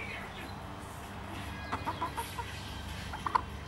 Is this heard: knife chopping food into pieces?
no